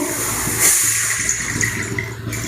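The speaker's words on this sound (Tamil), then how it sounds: "தேவையான அளவு தண்ணி ஊற்றி" Water gushes steadily into a pot or pressure cooker holding goat meat for gravy, a close, continuous pouring rush lasting a couple of seconds.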